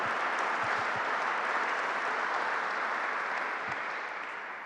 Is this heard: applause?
yes